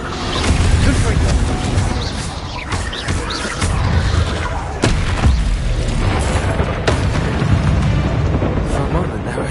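Confringo fire-blast spell detonating in Harry Potter video game Hogwarts Legacy, with loud booming blasts and sharp crashing impacts repeating over a dense, continuous rumble of game combat.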